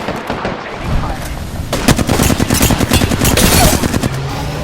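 Rapid automatic gunfire in the video game Apex Legends, loud dense bursts of shots rattling close, with game sounds and effects filling the background.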